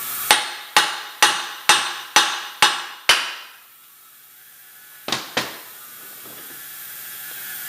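A hammer strikes an engine part on a Toro self-propelled push mower with a blown-up engine: seven evenly spaced, ringing metallic blows, then a pause and two more quick hits, loud and close.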